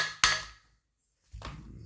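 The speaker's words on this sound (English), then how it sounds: "So you need a hammer to just strike it off from all sides." A hammer strikes a water pump casing to loosen it during repair: two sharp metallic knocks, the first ringing and decaying, the second after a short silence, both close and loud.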